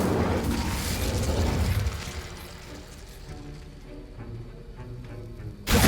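An Incendio fire spell cast in Hogwarts Legacy on Xbox Series X erupts in a loud fiery burst, fades into crackling rumble and mechanical clicks, then ends in a sharp sudden blast.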